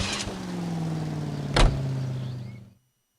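A car in the 1940s Los Angeles setting of L.A. Noire runs with a steady engine hum and a mechanical whirr. A couple of sharp thuds like a door closing cut through it, then everything stops abruptly into silence.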